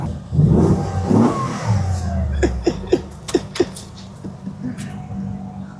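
A pink custom-built 1968 Ford Bronco cruising at about 45 mph, its engine droning steadily up close under road and wind rumble, with a few sharp clicks and knocks near the end.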